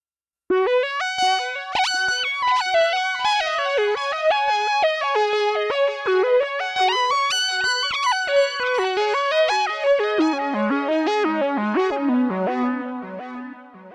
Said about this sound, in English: And here's the precision delay for a completely different sound.